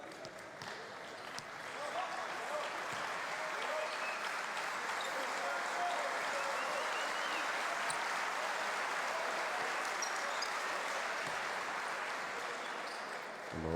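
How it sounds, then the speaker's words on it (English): A basketball crowd rises in a sustained standing ovation at a FIBA World Cup qualifier between Chile and the Virgin Islands, broad applause and cheering swelling and holding steady for several seconds, with a commentator talking over it. "Morales gets a standing ovation from the crowd as he just goes to the bench for a breather"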